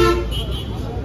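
A car horn toots near the start of a stretch of busy, undisciplined road traffic, with motor rumble and a continuous traffic din around it.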